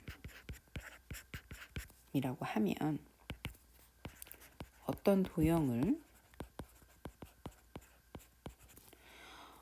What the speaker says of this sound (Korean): 제가 써볼게요